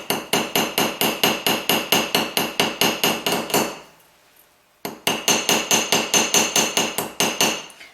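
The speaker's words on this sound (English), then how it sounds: "I'm going to just tap on the back of this rivet head." A hammer taps the back of a rivet head from a riveting kit in quick, evenly spaced, gentle strikes, loud and close, about a dozen in a row, then a short pause before another steady run of taps.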